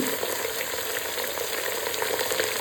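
Ginger and garlic hitting hot oil in a pan, giving a dense, continuous close sizzle with no pauses and no voices.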